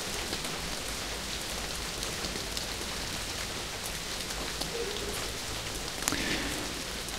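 Steady rain falling in a forest in the video game Castle Meister, a constant soft patter of drops on surfaces with a few sharper splashes, heard alone without speech.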